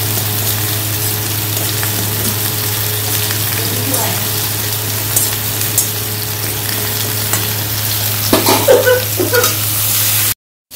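Food frying in a pan gives a continuous loud sizzle with a low steady hum beneath and a few clinks and scrapes near the end before it cuts off.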